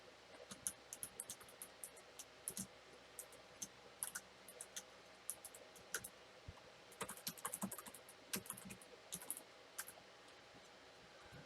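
Soft, irregular keystrokes and clicks on a computer keyboard come in scattered bursts, faint and close, with no talking.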